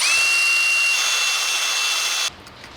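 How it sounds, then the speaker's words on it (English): Small drill boring holes at the ends of cracks in a widebody Mercedes car mirror, a loud, steady, high whine running close for a little over two seconds before cutting off abruptly. "So we're going to drill holes at the end of every single one."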